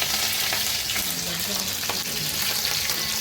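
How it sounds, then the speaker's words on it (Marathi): Mustard seeds and green chili sizzle loudly in hot oil, a dense steady crackling hiss that fills the whole span with faint popping, close up, while dhokla tempering is prepared. "चांगलं तेल तापलेलं आहे तेलात मोहऱ्या सोडू द्यायची आणि मिरची त्याच्यात मिरची टाकायची"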